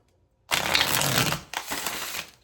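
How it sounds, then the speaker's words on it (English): Crisp riffling of tarot cards being shuffled, two quick bursts in a row, close and fairly loud, with no talking. "giving those a little bit more of a shuffle, I feel called to do an actual shuffle"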